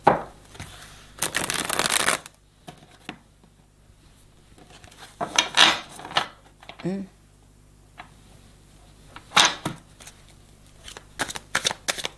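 Tarot cards are shuffled in several bursts of quick riffling and flicking, close and crisp, separated by pauses where someone speaks.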